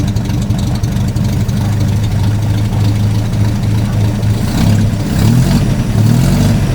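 A small Datsun engine runs at a steady idle while pulling fuel, loud and close, with a low rumbling pulse that roughens slightly near the end.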